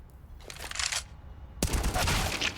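Gunfire in Counter-Strike: Global Offensive during a professional ESL Pro League match, heard as two close, loud bursts of rapid shots separated by a short pause.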